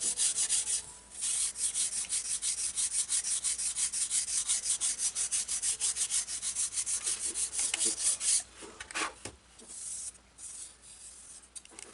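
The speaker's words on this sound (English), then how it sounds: "This is 120 grit. It's pretty well used 120, so it's not cutting like a fresh 120 would." A glider wing is sanded by hand with worn 120 grit sandpaper: rapid, rhythmic back-and-forth rasping strokes, close and steady for about eight seconds, then a few slower rubs.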